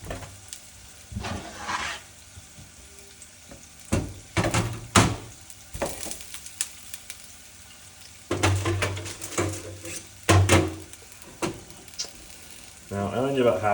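Potatoes for patatas bravas fry in a pan on medium-low heat in a small kitchen, a steady close sizzle broken by repeated stirring scrapes and clatters, with a few brief spoken words.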